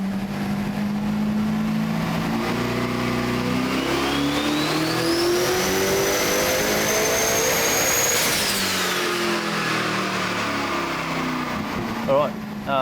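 Car engine on a dyno during a first shakedown run, revving loud and close with a rising whine that climbs steadily, holds at the top, then drops sharply as the revs fall back off.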